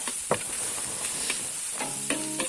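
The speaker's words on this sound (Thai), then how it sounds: "ผัดด้วยไฟแรงได้เลยนะครับ" Bologna fried rice with egg being stir-fried in a wok over high heat, giving a steady close sizzle with a few scraping stirs of the utensil against the pan.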